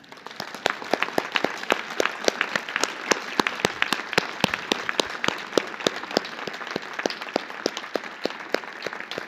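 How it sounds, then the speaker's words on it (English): Sustained audience applause after an academic keynote lecture, with crisp individual claps standing out sharply over a dense, even wash of clapping throughout. "I think we can give a round of applause"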